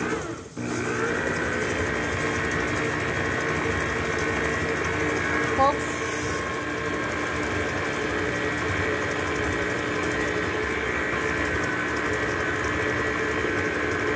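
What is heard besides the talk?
mixer creaming cookie dough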